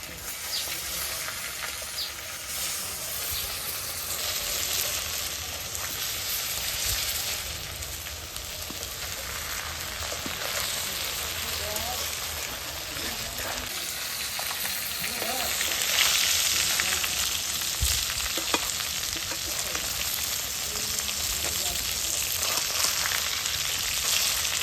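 Large rohu fish pieces fry in hot oil at a village cooking spot in Bangladesh, a loud continuous crackling sizzle holding steady throughout, with brief spatters and faint background voices.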